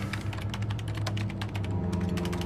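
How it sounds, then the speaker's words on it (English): Rapid, steady typing on a computer keyboard in a film scene, the dense clatter of keystrokes running continuously and fairly close over a low background hum, with no talking. "Stop typing."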